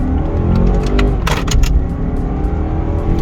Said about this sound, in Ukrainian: Давайте спробуємо вирушити від нуля до сотні. Вмикнемо спорт режим, поїхали.